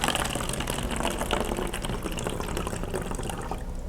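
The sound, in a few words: water poured into a bottle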